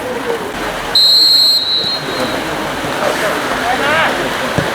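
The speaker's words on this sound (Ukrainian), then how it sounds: "Ну що ж, арбітр дав свисток і ми розпочинаємо цю гру." Referee's whistle blown to start a football match between FC Sevlyush and FC Khust at Yunist stadium, one sharp sustained blast of about half a second, loud over steady crowd and outdoor ambience.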